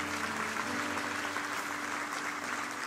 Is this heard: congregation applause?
yes